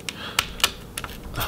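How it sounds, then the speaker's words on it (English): Retained heatsink screws on a Lenovo Legion Y530 laptop click as they are loosened, several light, sharp ticks in an irregular rhythm, close and fairly quiet. "you'll just have to loosen them until they start clicking"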